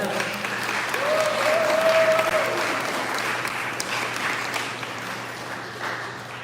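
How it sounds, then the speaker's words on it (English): An audience at a National Parents' Day family event applauds steadily in a roomy hall, a dense wash of clapping that stays fairly loud throughout while a faint whistle or cheer rises briefly partway through. "So give a round of applause to family."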